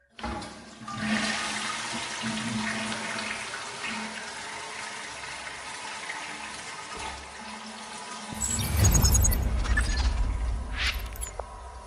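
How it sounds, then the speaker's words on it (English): A toilet flushing close by with a loud rushing gurgle of water that builds for several seconds, then a sharp surge into a heavy, deep swirl as the bowl drains and refills, with no one talking. "But trust me, Elon, this flush is going to make America great again."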